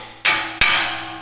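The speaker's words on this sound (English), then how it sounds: "Notice I'm using a brass hammer, so I'm not going to damage anything." Brass hammer striking a strut retaining bolt on a Land Rover LR4 lower control arm, two sharp metallic blows about a third of a second apart, each ringing briefly before fading.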